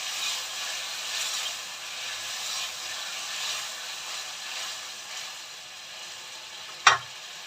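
Pomfret fish curry gravy simmering in a pan, a steady soft hiss and bubbling sizzle throughout, with one sharp utensil knock near the end and no voices.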